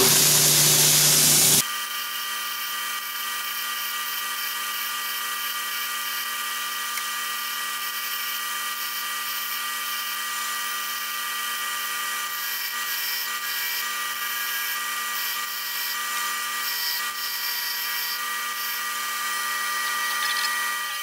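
A worn sanding belt grinds along the edge of a knife blade to smooth its bandsaw-cut profile, making a steady, even machine whine and hiss that holds for about twenty seconds after a brief louder start, with no talking.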